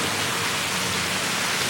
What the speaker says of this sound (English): Heavy rain today.